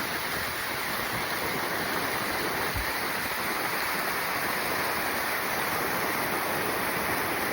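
A river rushes beneath a road in Glacier National Park, a steady, loud broadband roar of flowing water that holds constant throughout with no voices over it.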